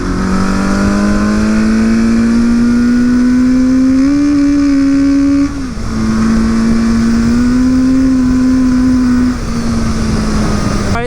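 Suzuki GS850 scrambler motorcycle with a slipping clutch, its engine revving loud and close in two sustained rises that hold steady and then drop back, with no speech over it.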